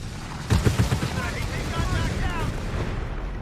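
Explosions from a bombing run on an AT gun in a video game: a cluster of heavy booms and rumbling blasts up front, then a sustained roar with passing whine-like sweeps, a voice speaking over part of it.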